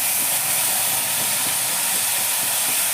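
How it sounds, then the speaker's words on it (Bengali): A paste of ground mustard seed, poppy seed and green chili sizzles in hot tempering oil with cumin, making a loud, steady, close hiss that continues without a break. "এখন আমি দিচ্ছি এটার মধ্যে সর্ষে পোস্ত বাটা।"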